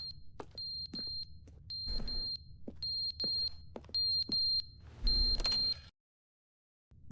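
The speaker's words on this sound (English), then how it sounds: "What's beeping at me?" Alarm in The Stanley Parable, beeping in short repeated high-pitched bursts at a steady rhythm over rumbling game noise, then cutting out abruptly into silence.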